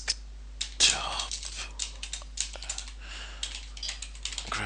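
Fingers typing a command on a computer keyboard, a quick uneven run of close, crisp key clicks with brief pauses between bursts.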